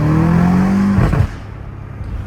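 A downpiped BMW M5 Competition engine drones loudly close by, then the note drops away as the throttle closes, with a brief whooshing turbo flutter before it settles to a quieter idle.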